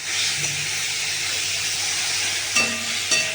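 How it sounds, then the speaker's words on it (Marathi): Tomatoes roasting in a pan give a steady, fairly loud sizzle and hiss throughout, with a couple of brief clinks of stirring near the end and no talk. "ते टमाटे पण असे भाजून घ्यायचे का"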